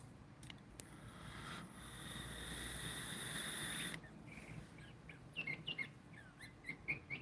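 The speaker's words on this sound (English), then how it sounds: "You guys hear that bird?" A bird chirps in quick, faint tweets toward the end, over a steady outdoor hiss and rumble.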